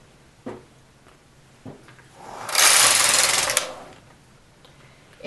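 A knitting machine runs across rows of waffle stitch, a rising mechanical whir of the carriage sliding past for about a second, framed by soft clicks and knocks before and after.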